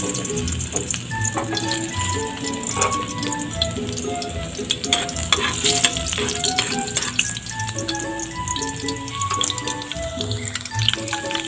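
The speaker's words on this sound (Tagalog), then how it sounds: "mag-igisa na tayo ng bawang" Garlic sautéing in a hot pan for a home-style catfish dish, giving a steady, loud sizzle with crackles and some clinks and tonal kitchen clatter mixed in, with no speech over it.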